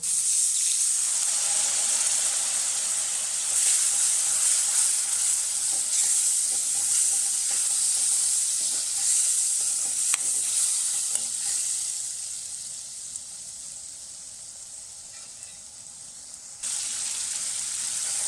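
Loud, steady sizzling and crackling of water hitting hot oil and spices in a pan, fading somewhat toward the end before picking up again, while making a tiger prawn masala gravy.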